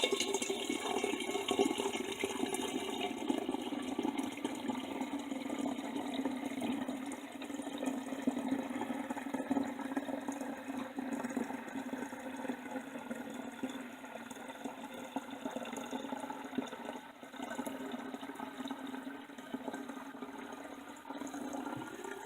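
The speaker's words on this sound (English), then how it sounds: "now I'm going to pour in the juice" Pomegranate juice pours steadily into a carboy for a long, unbroken stretch, making a soft, even gush of liquid with no talk over it.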